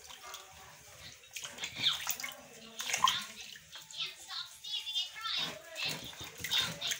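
Foraged wild greens being washed in water to remove sand, with splashing and sloshing from running water that comes and goes in uneven bursts, moderately close, while a voice speaks over it.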